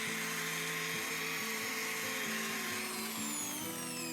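Power polisher running at slow speed on the varnish of a custom electric guitar, a steady mechanical motor whine with small shifts in pitch as the load changes, close and continuous.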